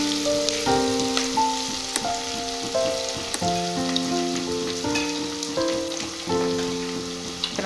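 Onions frying in oil with a pinch of turmeric for coriander biryani, a soft continuous sizzle and crackle beneath steady tonal music, with occasional sharp ticks.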